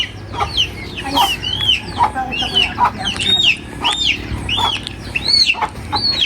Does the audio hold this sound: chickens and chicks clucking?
yes